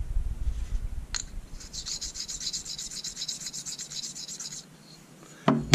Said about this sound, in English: if you've got a real fine Arkansas hone like I've got, you can even take your trigger and just make sure it's nice and smooth on both sides.